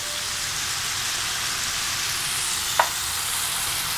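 Onions, garlic and jalapeno sauté in a pan with sesame oil and a touch of sugar, giving a steady, close hiss of frying with one brief sharp clink partway through and no voices.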